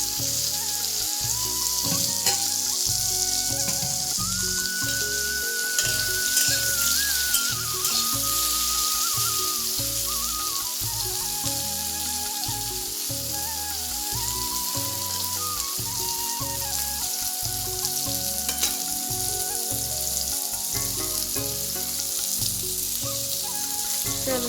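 Food frying for khichuri, a steady loud sizzle and crackle filling the whole stretch without pause, close up, with faint tonal background sounds and no talking.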